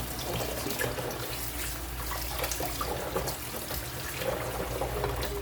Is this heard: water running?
yes